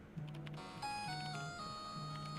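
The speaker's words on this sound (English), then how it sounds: "Man, what a nice ringtone." A game-soundtrack ringtone plays a melodic electronic tune with sustained tones and stepping pitches over a low repeating bass figure, steady and moderately loud throughout.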